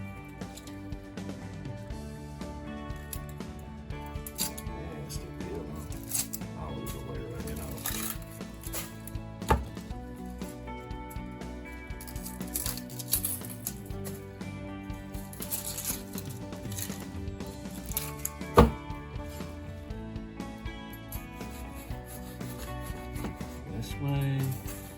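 A sharp kitchen knife chops through an onion on a cutting board, with repeated fine cuts and knocks running throughout under steady conversational talk, loud and close.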